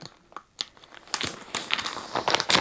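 Yarn being opened from an organza bag and its packaging makes crisp, close crinkling and rustling, starting with sparse clicks and growing into dense, busy crackles of handled plastic and fabric.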